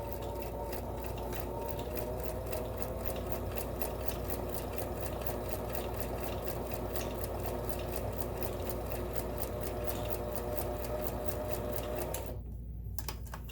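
A Kenmore 1792 sewing machine stitches steadily at close range, its rapid, even needle clatter running continuously over a low motor hum before stopping abruptly near the end.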